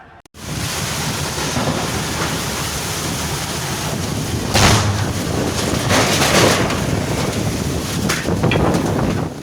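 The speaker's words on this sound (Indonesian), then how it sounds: "hujan deras disertai angin kencang yang melanda Kecamatan Sumbersari, Jember" Heavy rain driven by strong wind in Sumbersari, Jember, Indonesia, a dense continuous roar of downpour and gusts buffeting the microphone, swelling louder midway, with no voices.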